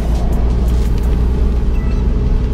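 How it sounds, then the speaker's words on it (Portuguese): A Fiat Uno drives on a rainy city street, giving a steady low engine rumble and road noise heard from inside the car, continuous and fairly loud with no talk. "Vou dar uma aceleradinha aqui que vira um carro atrás de nós."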